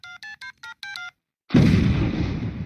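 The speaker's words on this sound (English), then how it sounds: "I'm gonna call Mahmoud right now on this cell phone he gave me." A cartoon cell phone in Family Guy is dialed with five quick, evenly spaced keypad tones, then after a short pause a loud burst of noise cuts in and trails off.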